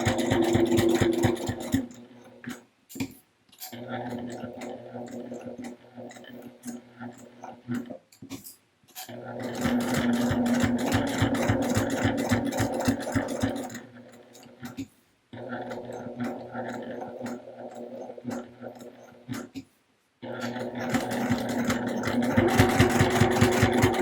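A sewing machine stitches a small fabric AirPods case holder, running in several steady, rapid bursts separated by short pauses, close and fairly loud.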